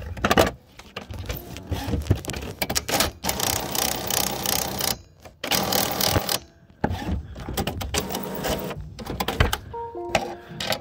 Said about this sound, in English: this gear right here, it seems like it's slipping